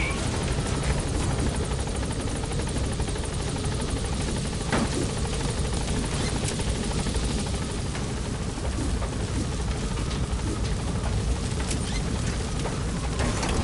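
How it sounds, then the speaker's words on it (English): The Pequod helicopter arrives at a landing zone in Metal Gear Solid V, its loud, steady rotor roar and engine noise filling the whole clip without a break. "Arriving shortly at LZ. This is a Pequod. On station at LZ"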